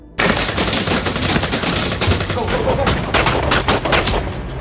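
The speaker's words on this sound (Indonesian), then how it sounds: "mereka tiba-tiba diserang dari luar hingga terjadilah tembak-tembakan" Loud, sustained bursts of automatic gunfire in an action film scene of a cartel attack, with rapid shots overlapping as several weapons fire at once in a continuous exchange.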